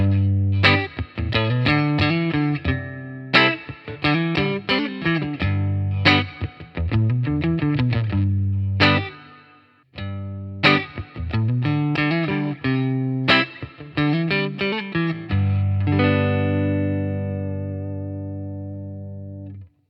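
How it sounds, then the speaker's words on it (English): A warm, lightly overdriven electric guitar through a Blackstar IDX amp plays strummed chords and picked riffs in bursts, with short pauses between phrases and a final chord left ringing. "What about a bit of a warm crunch,"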